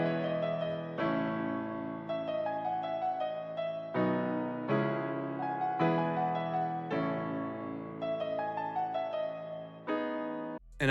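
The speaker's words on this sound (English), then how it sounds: "With our bass notes and our chords, we got something that sounds like this." Emotional piano beat built in FL Studio, with low bass notes under sustained piano chords, playing steadily in phrases that change every couple of seconds, with no voices.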